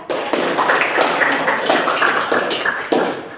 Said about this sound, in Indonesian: beri tepuk tangan dulu buat Meka ya